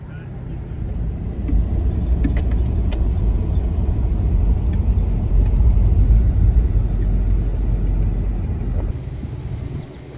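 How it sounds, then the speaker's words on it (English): Steady traffic on the Cades Cove loop road in the Great Smoky Mountains, a continuous low rumble of passing cars close by, with a brief drop near the end. "As the morning progressed, more traffic started to enter the loop."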